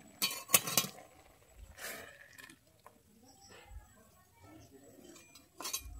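A metal kadai of boiled onion, tomato, ginger and garlic is lifted off the stove, giving a few sharp metallic clanks and clinks at the start, one in the middle and another near the end, separated by quiet stretches.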